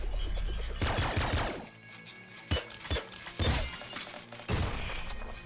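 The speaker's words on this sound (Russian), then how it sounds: "И вот три выстрела" Bursts of gunfire in the video game Nuclear Throne crack repeatedly over a few seconds, loud and close, with sharp impacts and shattering noises mixed in.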